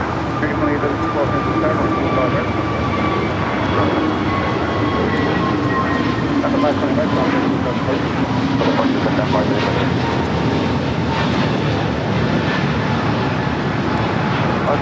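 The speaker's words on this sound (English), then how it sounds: "525 taking off to San Salvador on the A320 Neo" An Avianca Airbus A320neo rolls for takeoff from LAX runway 25 right, a steady broad jet roar with rising whine tones holding loud and continuous throughout, voices talking faintly over it.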